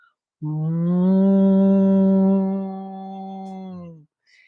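A person hums a long, low, steady note with closed lips, imitating a cow's moo, loud and close, lasting about four seconds.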